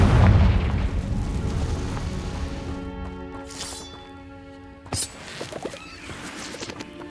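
A Confringo fire spell explosion in Hogwarts Legacy, a loud rumbling boom that slowly fades into a ringing, tonal magical hum, followed by a sharp burst and scattered crackles.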